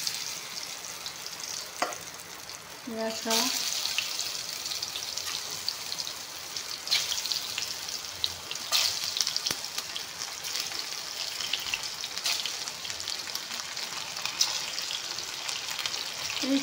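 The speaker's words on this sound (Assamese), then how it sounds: "একেলগে এইখিনিও ভাজি ল'ম।" Pointed gourd frying in refined oil in a pan, a steady close crackling sizzle with occasional spatters and stirring scrapes, and a few brief spoken words near the start.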